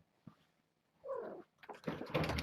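Kittens purr softly at first, then break into close, rising meows that grow louder toward the end, with no talking.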